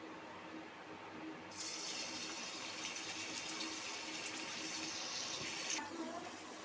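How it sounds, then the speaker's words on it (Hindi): Boneless chicken slices drop into hot ghee and sizzle, a soft background hiss that suddenly jumps to a loud, steady crackling fry and then eases back down near the end. "अब हम उसमें चिकन को फ्राई करेंगे।"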